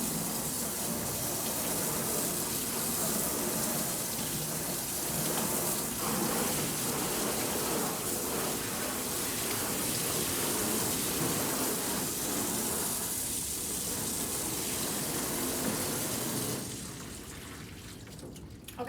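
Pressurized water sprays over a small mammal cage and plastic tub, a steady loud hiss and splatter that runs nearly unbroken before easing off near the end, close by.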